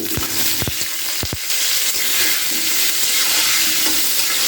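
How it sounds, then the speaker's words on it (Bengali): Potatoes fry in mustard oil seasoned with turmeric and salt, a steady close hiss of sizzling broken early by a few sharp knocks of a utensil against the pan. "এখানে আমি আলুটাকে ভেজে নিচ্ছি"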